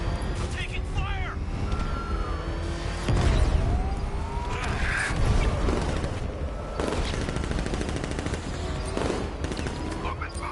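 Gunfire in the Batman: Arkham Knight video game: scattered shots and bursts ring out over a steady background din, with voices calling out during the firefight.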